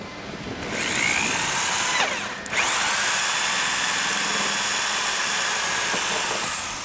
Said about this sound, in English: Now it's plastic, so it drills very easy.